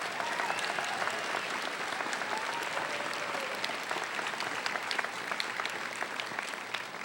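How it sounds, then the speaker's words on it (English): Steady applause from a large crowd at the 2008 College of Creative Studies commencement, dense continuous clapping at an even level throughout, with faint crowd noise beneath. "Let's give them a round of applause."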